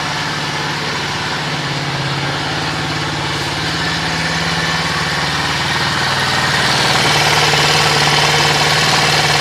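A 2023 Venom SS3 KP mini 150 motorcycle engine idles steadily and smoothly up close on first start, a continuous low throb with a slight rise in level toward the end, no voices.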